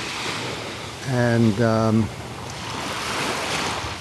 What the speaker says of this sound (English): there's the mighty North Atlantic Ocean